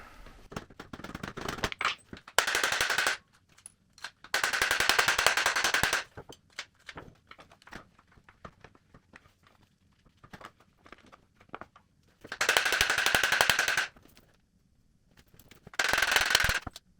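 A hammer whacks a stuck motorcycle swingarm bolt, with dense rapid metallic strikes coming in several loud bursts separated by quieter gaps of scattered taps and rattles.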